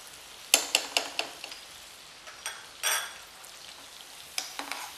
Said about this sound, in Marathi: परत सगळा मसाला जो आपला कांदा आणि ढबू मिरची आहे सगळ्या मसाल्याबरोबर परतलं पाहिजे.